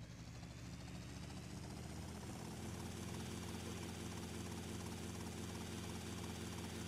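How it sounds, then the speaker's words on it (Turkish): A helicopter in GTA Vice City gives a steady droning rotor and engine whir with a dense rhythmic chop, constant and fairly quiet throughout, alone with no talk. "Zaten yukarıda helikopter varmış hani gitmem için ama."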